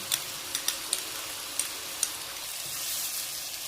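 Chickpea masala with yogurt fries in a pan, giving a steady close sizzle broken by a few sharp pops and spatters. No voices can be heard.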